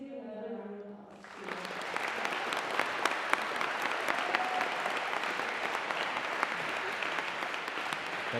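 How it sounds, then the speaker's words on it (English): Audience at a Veterans Day program breaks into steady applause after a voice fades out, sustained clapping filling the room with a few sharper claps standing out. "Please give another round of applause."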